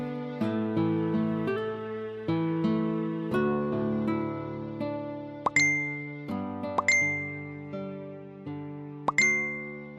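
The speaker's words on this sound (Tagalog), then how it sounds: "Toto, itong phone mo kanina pa tunog ng tunog." Phone notification dings ring out repeatedly as chat messages arrive, a run of bright chime tones over a soft melodic background with several sharper pings near the end.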